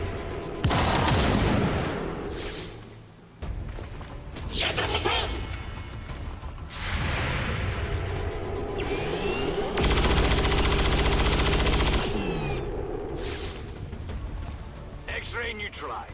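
Gunfire in the XCOM 2: War of the Chosen strategy game, repeated bursts of shots and booming impacts with a sustained stretch of rapid fire, mixed with game voices and effects.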